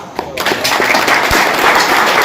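An audience at a Hindi poetry gathering, a kavi sammelan, breaks into steady, close, loud applause, many hands clapping at once in a dense wash for the full couple of seconds.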